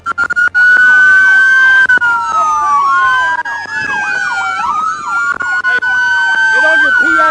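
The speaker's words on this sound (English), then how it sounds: "Kill your siren! Kill your siren!" A police car siren wails loudly and continuously at close range, its pitch sweeping up and down in a rapid yelp pattern during a high-speed dashcam pursuit.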